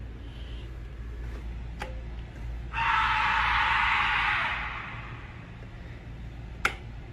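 A scream in the woods during a police search, heard once as a sustained, fairly loud cry lasting about two seconds over a low background rumble, with a couple of sharp clicks around it.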